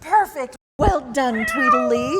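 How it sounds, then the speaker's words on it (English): A cat-meow phone ringtone sounds close and clear, with several distinct meowing calls overlapping and following a woman's speech. "Oh, that's my cat phone."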